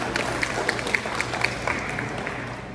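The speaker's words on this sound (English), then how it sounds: "Can you please give them a loud applause?" An audience at a community conference gathering applauds, with sharp individual claps standing out over a continuous wash of clapping. Moderately loud, it thins slightly toward the end.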